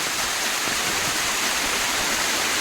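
A heavy downpour at Uparkot Fort in Junagadh makes a dense, unbroken roar of rushing water, loud and close, with no voices.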